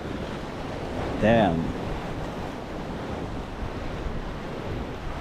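Caribbean Sea waves at Portland, Jamaica, a steady wash of surf with wind buffeting the microphone, continuous and fairly close, while a man briefly exclaims.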